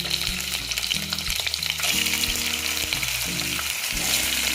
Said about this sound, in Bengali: কড়াটা গরম হতে দিচ্ছি এবার আমি মাছগুলো দিয়ে দিচ্ছি